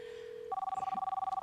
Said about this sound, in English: Answer the phone, Kay.